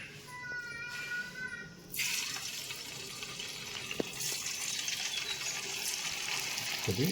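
Chicken pakoda pieces coated in masala with curry leaves are dropped into hot oil. After a couple of seconds a broad, quiet hiss of frying sets in and holds steadily, with a faint click or two.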